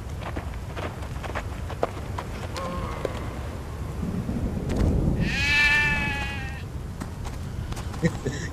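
Sheep bleat in the video game Stubbs the Zombie, a short wavering cry near the middle over a low rumbling game backdrop with scattered clicks and thumps.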